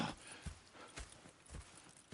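Horse hooves clip-clopping in Red Dead Redemption II, a steady walking rhythm of soft, close hoof strikes with no talk over them.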